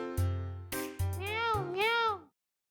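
A person imitates a cat's meow, voicing a couple of drawn-out, wavering meows after a few short vocal sounds, close and clear before ending in silence.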